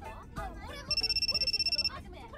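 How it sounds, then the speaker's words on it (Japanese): Phone ringing with an incoming call in a Japanese sound drama, a steady electronic ringtone pulsing in rapid even beats for about a second, following and overlapping voices. "あ、ビュータから着信が来たよ。"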